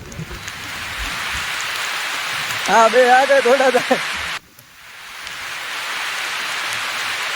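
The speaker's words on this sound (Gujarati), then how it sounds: "દોડો વરસાદ આવ્યો." Steady rain falls outdoors as a soft, even wash of noise, with a voice speaking briefly over it before the downpour continues alone.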